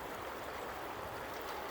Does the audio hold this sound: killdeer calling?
no